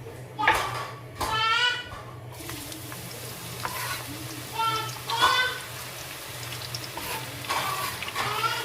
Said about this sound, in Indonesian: Di sini saya udah panaskan minyak. Sekarang mau saya goreng bawangnya.